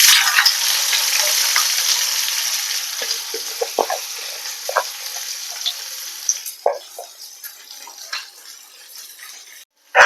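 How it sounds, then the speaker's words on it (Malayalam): Sliced onions dropped into hot oil for Kerala-style potato masala, a loud sizzle that starts strong and gradually softens, broken by scattered stirring clicks and scrapes. "ഇനി നമ്മൾ അരിഞ്ഞു വെച്ചേക്കുന്ന സവാള ഇട്ട് കൊടുക്കാം"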